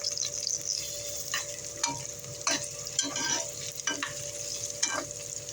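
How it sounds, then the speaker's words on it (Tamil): Star anise, bay leaf and cloves sautéing in hot oil in a pan for vegetable biryani, with a steady sizzle and intermittent stirring scrapes, close and moderately loud, no talking. "லவங்கம் ரெண்டு போட்டு வதக்கின்னு இருக்கேன்"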